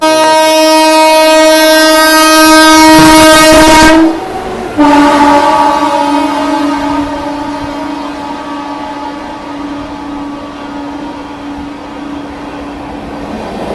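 Rewa Express overtakes on the adjacent line at Khurja Junction, its loud sustained horn blaring close by for several seconds before the rumbling train rolls past at steady volume.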